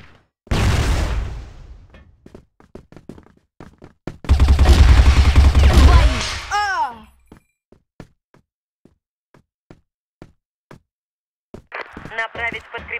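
In a tactical shooter video game, a flashbang grenade bursts loudly amid sharp gunfire, with scattered shots before and after and a ringing, fading aftermath; a voice speaks briefly.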